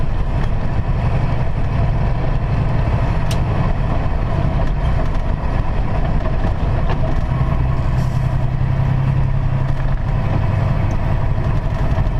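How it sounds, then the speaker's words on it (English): A big truck rumbles past on a road, heard from inside a vehicle as a loud, steady low engine drone lasting the whole stretch, no talk. "big truck coming through"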